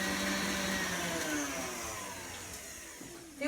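An electric whisk whirs steadily through sprinkle-studded birthday cake batter in a bowl, its motor pitch slowly sagging and fading over a few seconds before a brief clatter at the end.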